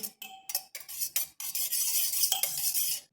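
A spoon clinks and scrapes against a bowl while milk, oil and sugar are mixed for an eggless chocolate cake batter, with irregular bursts of stirring separated by short pauses and no talk.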